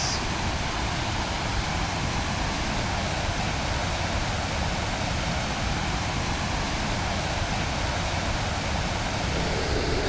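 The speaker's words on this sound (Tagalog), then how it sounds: "So ito yung tinatawag na Dunsulan Falls." Dunsulan Falls roaring as a dense, steady rush of falling water that fills the whole scene, loud and unbroken throughout with no voices.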